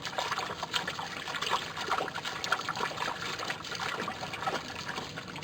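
Clothes are washed by hand in water outdoors at a remote Pilbara campsite, giving a continuous trickling and splashing of water, close and moderately quiet, with no talk.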